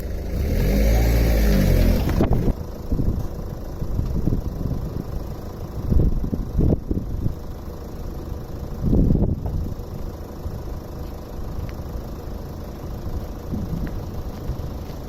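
A narrowboat engine ticks over while warming up, a low, rumbling idle heard near after a loud starting burst, with some bumps and wind buffeting on the microphone.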